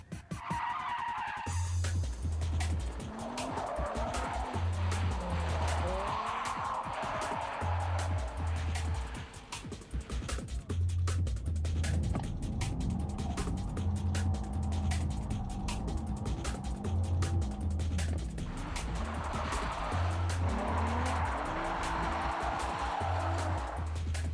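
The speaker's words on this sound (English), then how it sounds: "Now the dirt drop drift, that's when you drop the back tyres onto the gravel." A car drifts and drops its rear tyres onto gravel at the corner edge, with repeated long tyre-skid squeals over a droning engine that rises and falls with each slide, loud and continuous.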